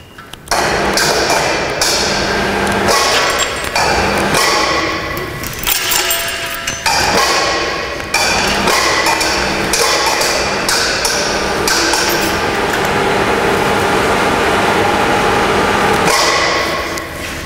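Gas cylinder trolley with lifting hoist (model CTS02) raising a gas cylinder on shackles, giving a continuous loud run of metallic clanks, clinks and knocks with brief pauses throughout.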